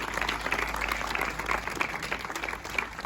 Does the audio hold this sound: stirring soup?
no